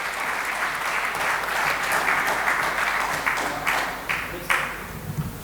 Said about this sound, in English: Can we have a huge round of applause once again?